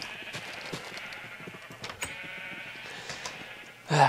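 Sheep in the Minecraft video game bleat several times in quick succession, short wavering calls over a faint background hum, followed by a louder burst at the end.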